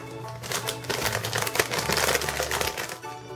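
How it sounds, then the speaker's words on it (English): A bag of surprise toys is torn open up close, a rapid crackling plastic rip with rustling and crinkling for about three seconds, with no talk. "Rip it open."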